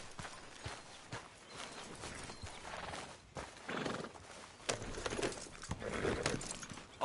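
A horse in the Red Dead Redemption 2 video game clip-clops along with its hooves, snorting and giving a whinny, all fairly faint against game ambience.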